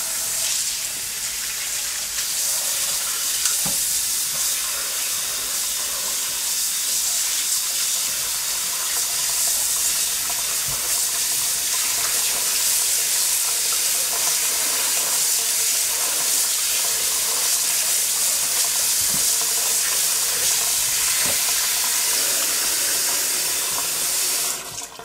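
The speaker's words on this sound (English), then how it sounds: "Now I'm going to rinse it off with the water." Tap water runs steadily into a kitchen sink while a turkey neck is rinsed, a close continuous splashing hiss with small shifts in the stream, lasting the whole time.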